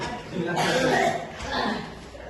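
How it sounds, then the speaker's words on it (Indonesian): A single harsh cough bursts out near the start, followed by a smaller second cough, with a voice murmuring around them. "Langsung batuk dia tuh."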